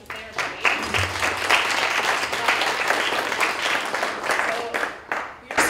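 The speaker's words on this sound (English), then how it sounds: "So can everybody give these folks a round of applause?" Audience at a county Republican Party meet and greet applauding delegates, dense sustained clapping filling the room for several seconds before trailing off.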